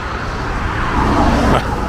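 Cars pass on a road behind a Greek beach, a steady traffic rumble that swells toward the middle of the clip and then drops away, blended with surf noise and no clear speech.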